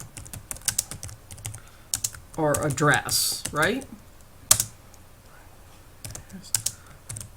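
Close keyboard typing, with scattered keystrokes and a firm space bar tap, runs under a man's brief speech in a lesson on writing a paragraph.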